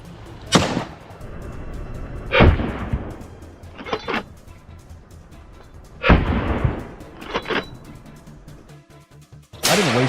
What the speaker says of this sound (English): Gunshots rang out, one after another